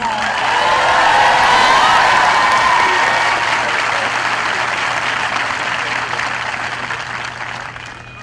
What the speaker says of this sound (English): Graduates, congratulations, class of 2020. Let's give them a round of applause.